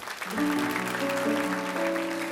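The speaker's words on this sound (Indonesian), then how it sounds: "Ya, berikan tepuk tangan untuk Tuhan." Applause from a church congregation rises and holds steady, blended with sustained organ-like music chords that carry on underneath.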